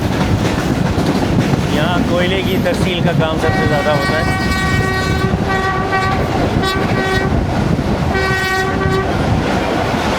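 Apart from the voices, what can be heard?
Pakistani passenger train passing through railway station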